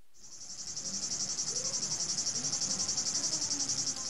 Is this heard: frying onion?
no